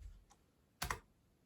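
A faint click and then a short, loud burst of keystrokes on a computer keyboard, tested during a Windows 10 ARM setup on a Surface RT, standing alone with no talking.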